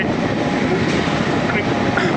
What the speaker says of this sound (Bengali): আমঘাটা কৃষ্ণনগর উদ্বোধনী স্পেশাল ট্রেন ছুটে চলেছে